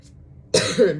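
A single sharp cough from morning allergies bursts out after a near-silent moment, close to the listener, with a brief raspy tail.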